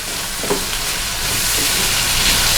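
Chili beef stirred in a hot pan with fresh cream and hot sauce, a loud continuous sizzle with a couple of soft scraping strokes from the spoon, close and alone.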